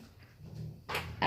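A dog close by, making short snuffling, grunting noises followed by two brief louder bursts.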